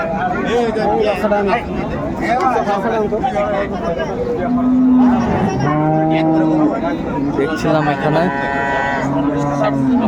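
Several drawn-out moos from dairy cows and calves ring out at a crowded Dhaka cattle market, repeating through the second half over continuous talk and background crowd babble.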